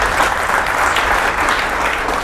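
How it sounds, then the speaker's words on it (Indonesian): Steady, dense applause from an audience during a talk show conversation with an Indonesian army chief of staff, loud and continuous throughout without any voices. "Oh, tepuk tangan."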